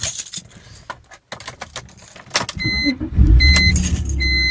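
Keys jangle for a few seconds, then a 2001 BMW 330i automatic sedan cranks and catches, settling into a steady, close idle with no talk over it.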